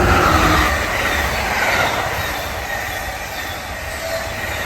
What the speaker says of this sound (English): my train back to DC is coming soon